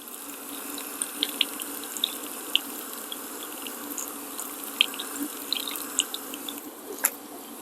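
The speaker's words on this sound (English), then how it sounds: "rinse them off with the cold water." Cold water from a garden hose rinses tomato seeds, a continuous close splashing stream with scattered drips and small clinks.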